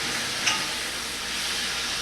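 Cubed eggplant frying in a pan for ratatouille, a steady close hissing sizzle throughout with a brief small pop early on; no one speaks.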